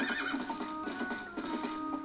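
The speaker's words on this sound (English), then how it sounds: "Can't you go any faster, horsey? Epona?" Epona, the horse in the Zelda Twilight Princess video game, neighs in a short, bright, wavering whinny, close and clear with faint hoofbeats beneath.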